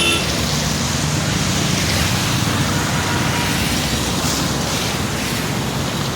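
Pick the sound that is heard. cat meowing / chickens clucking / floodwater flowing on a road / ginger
floodwater flowing on a road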